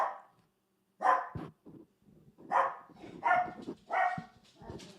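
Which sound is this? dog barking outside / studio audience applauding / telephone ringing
dog barking outside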